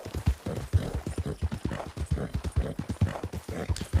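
Horse hooves clip-clop in a video game, a steady rapid trot of close, loud thuds repeating throughout with no talk over them.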